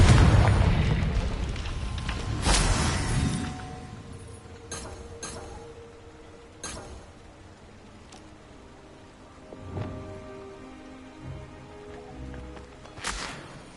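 Explosive spell blasts in the Hogwarts Legacy video game, a loud booming burst near the start followed by several sharp cracks and smaller pops spread across the clip, with a final bright burst at the end.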